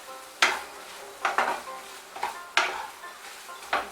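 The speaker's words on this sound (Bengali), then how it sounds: "দিয়ে একটু নাড়াচাড়া করে" Green chilies split and added with a little sugar sizzle in a pan while being stirred, several scraping strokes of a spoon against the pan at a steady, unhurried rhythm, close and moderately loud with no talking.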